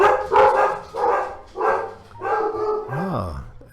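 Dogs bark in a home kitchen in a run of five or six loud, close bursts, ending in a rising whine-like yelp.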